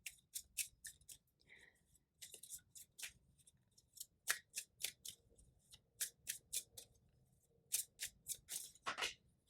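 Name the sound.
tarot cards being drawn and handled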